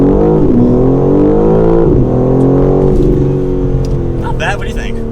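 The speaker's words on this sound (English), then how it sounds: "Let's go ahead and do launch control real quick." A 2022 BMW M4 Competition launching from a standstill under launch control, its engine climbing hard through rising revs with a brief dip at a gearshift, loud and close in the cabin, with people talking over it near the end.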